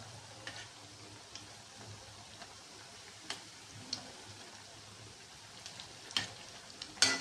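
Gulgule, sweet fritters, frying in oil, with a quiet, even bubbling sizzle and scattered faint ticks and clicks, plus a sharper utensil knock at the end.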